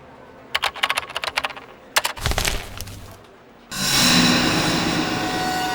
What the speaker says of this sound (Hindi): फ्रेडी, जरा इसे टाइप करके देखो, AIDA, आइडा।